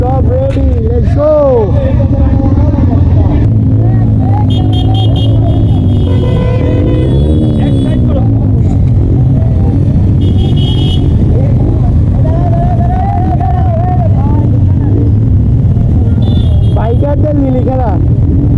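Motorcycles of a bikers' rally set off together, their engines rumbling and revving steadily throughout, mixed with crowd chatter and voices talking nearby.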